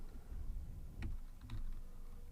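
Computer keyboard keys typed at a desk while web code is edited, a handful of distinct close clicks ending in a firmer press like the Enter key, fairly quiet over a low room hum.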